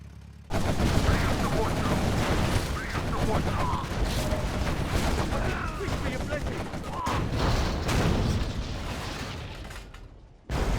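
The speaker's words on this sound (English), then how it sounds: "This market is getting absolutely devastated by the rocket fire." Rocket fire pounds a market in the real-time strategy game Command & Conquer Generals, a dense, continuous barrage of explosive bursts and gunfire that stays loud throughout before cutting out briefly near the end.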